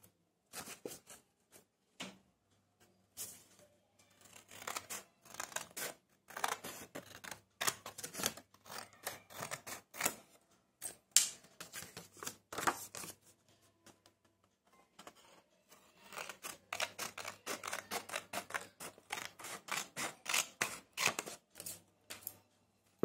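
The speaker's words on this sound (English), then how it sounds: "Like this, and we have to cut" Paper being cut with scissors while making an origami watch, heard as a long series of short crisp snips and rustles, close and moderately loud, in irregular bursts with brief pauses.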